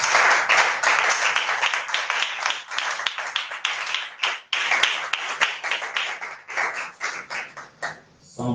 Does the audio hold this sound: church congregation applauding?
yes